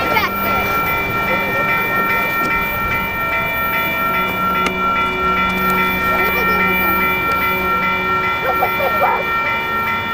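Train passing near Surf Beach in Lompoc, California, a loud, steady rolling rumble with a sustained horn tone layered over it, while people talk nearby.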